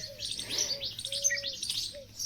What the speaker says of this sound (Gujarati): આ ઉપર કબૂતર તાચીને બેઠા છે.